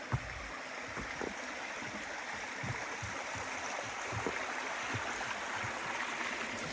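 A mountain stream runs at a water crossing on a hiking trail, giving a steady, soft rush of water with faint gurgles, heard quietly and alone throughout.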